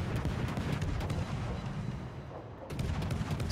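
Naval guns firing from a warship in World of Warships, heard as a dense, continuous roar of booming salvos, loud and close, with a brief dip before the barrage resumes.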